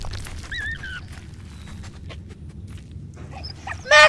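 Dog whimpering and whining in the World War I video game Valiant Hearts, a few short high cries early on and a sharper burst of barking near the end over a low rumbling game backdrop.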